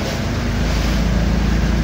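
A boat motors across open sea toward Gaspar Island off Marinduque, a steady low engine drone blended with wind buffeting the microphone and water rushing past, loud and continuous with no talk.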